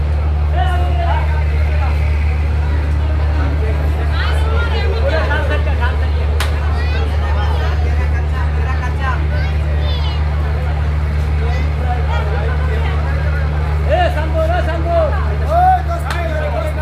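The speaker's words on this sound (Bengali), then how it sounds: "কর্মব্যস্ত সদরঘাট লঞ্চ টার্মিনাল" A dense crowd mills about the busy Sadarghat launch terminal as people head home before Eid, producing steady loud babble over a deep, constant engine drone from the boats.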